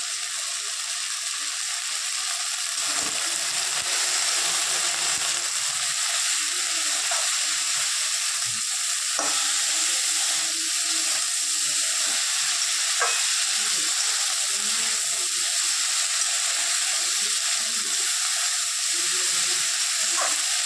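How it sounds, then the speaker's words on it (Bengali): Vegetables frying with salt and turmeric in a home kitchen pan: a loud, continuous broadband sizzle with occasional scraping stirs, steady throughout with no talking. "ভাজা হোক।"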